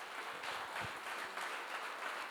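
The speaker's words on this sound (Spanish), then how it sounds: "Dale una alabanza, aplauso a Cristo." Applause from a church congregation, a steady wash of many hands clapping at moderate volume with no voices over it.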